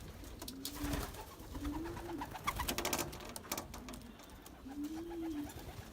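A pigeon hen coos in low, soft, rounded calls repeated about five times, fairly close, over faint rustling and background noise with no talk.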